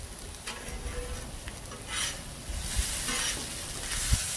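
Chicken fried rice sizzling on a griddle as it is pushed around, steady close hissing broken by repeated scraping strokes of a spatula, no voices.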